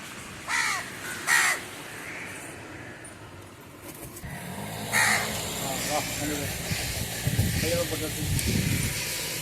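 Several harsh crow caws ring out near the start, two loud calls followed by more further off, over outdoor ambience with people talking and passing traffic during a family trip to Palani.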